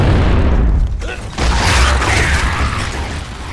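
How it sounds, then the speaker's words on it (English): A frag grenade blows up in a 2v2 shooter match, a loud broadband boom that swells after a brief dip and then rolls on with a sustained noisy rumble. "Incoming frag!"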